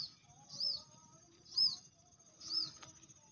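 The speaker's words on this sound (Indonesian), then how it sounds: "Dan ini induknya lagi mengeluarkan suara nih, tanda bahaya." A parent sogon bird gives an alarm call at a wild nest: three short, high, evenly spaced calls about a second apart, fairly faint over quiet background.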